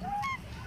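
A pet bird gives a short, bright honking call close by, a single quick note rising out of quiet indoor background noise.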